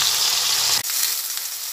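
Eggplant pieces coated with turmeric and salt fry in a pan, a close, bright sizzle that briefly cuts out and then resumes slightly softer.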